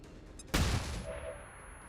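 Grenade blast in XCOM 2 Long War 2, a single sharp explosion hitting abruptly and decaying into a rumbling tail over about a second, fairly quiet overall.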